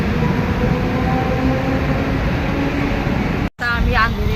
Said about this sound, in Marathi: CST ट्रेन चालली आता.